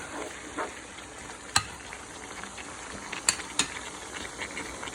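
Chicken liver sizzles in a pan while a utensil stirs it, a steady fry with a few sharp scraping clicks against the pan, close and moderately quiet, no voices.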